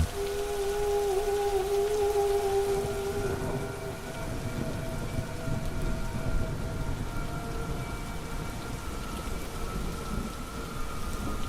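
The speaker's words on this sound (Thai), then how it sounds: "ที่เสียงฝนกระทบหลังคา" Steady, heavy rain drums on a roof, with low rumbles of thunder and a faint tonal sound in the first few seconds.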